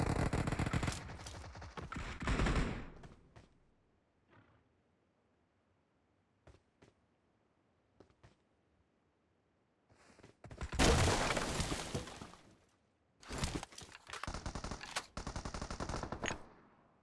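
M249 machine gun fire in PUBG Mobile: loud, sustained automatic bursts open the clip, a few isolated single shots follow during a quiet stretch, then two more long bursts close it, near and forceful with no talk.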